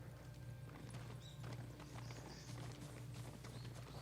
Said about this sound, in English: A farm horse.